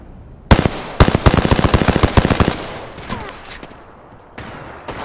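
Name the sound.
gunfire in Apex Legends video game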